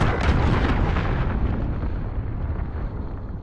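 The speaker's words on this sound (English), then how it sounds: "Enemy cruise missile." A cruise missile strikes in a Call of Duty Modern Warfare Search and Destroy match, a loud, close blast with a heavy boom that rolls on into a long, fading rumble.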